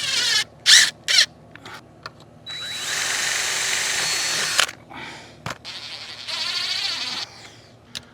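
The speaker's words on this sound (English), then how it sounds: "I just got to fasten this basin. Drill a couple holes. Stainless steel screws." A power drill drills holes to fasten a basin for stainless steel screws, whirring in several bursts, some short and some sustained for a couple of seconds, close by with brief pauses between.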